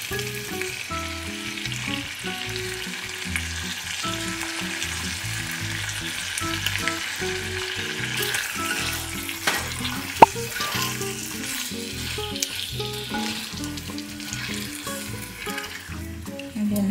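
Pork riblets sizzling steadily in a pan with barbecue sauce, a close continuous frying crackle with occasional stirring scrapes and a single sharp clink midway.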